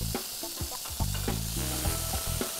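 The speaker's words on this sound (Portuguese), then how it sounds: "Vou deixar refogar bem." Chopped leek and concassé tomatoes sauté in olive oil, a loud close sizzle broken by repeated rhythmic stirring scrapes and knocks of a utensil against the pan.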